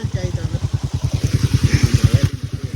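A motorcycle engine runs in fifth gear beside a stream during a bike wash, thumping in a steady, loud, regular pulse with a voice talking over it.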